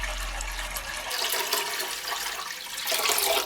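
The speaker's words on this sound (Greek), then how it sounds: "Θα βάλουμε πρώτα νερό σε μια μεγάλη κατσαρόλα να βράζει." Tap water runs into a large cooking pot with a continuous hissing, splashing stream that grows louder and fuller toward the end, after a brief low rumble at the start.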